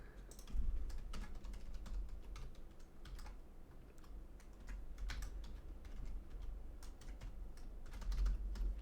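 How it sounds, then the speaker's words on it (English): Steady clatter of typing on a computer keyboard, irregular quick keystrokes close by, with a low hum underneath and no talk. "I'm typing it"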